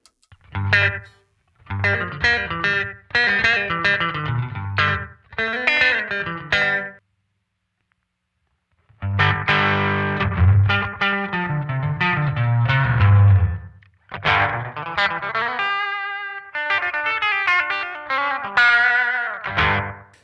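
Electric guitar through an analog delay pedal on a fast setting plays quick strummed and picked phrases with fast repeating echoes, stopping briefly in the middle before continuing.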